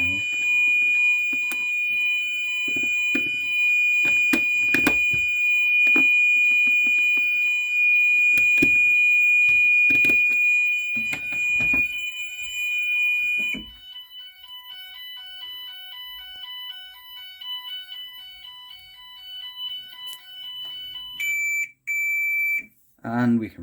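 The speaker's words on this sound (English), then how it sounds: "Helps if you cancel the buzzer, because it'll just keep going because there's a fault." A GENT Vigilon fire alarm buzzer sounds after a call point is activated, a steady loud electronic tone running continuously with clicks and handling noise, then cutting out and briefly restarting, while a person talks over it.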